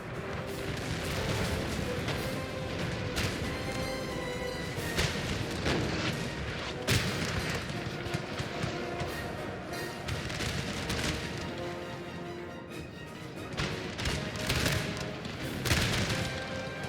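Continuous battle din from the game Napoleon: Total War, with artillery booms and scattered musket fire rolling over one another at a steady, fairly distant level for the whole stretch, with no voices.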